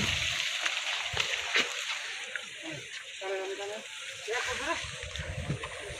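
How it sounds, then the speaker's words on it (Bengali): A tired bull wading into a flooded jute field, giving soft sloshing and splashing water sounds at close range, with rustling and some background voices. "এখন একদম ক্ষেতের মধ্যে নেমে গেছে পানির মধ্যে।"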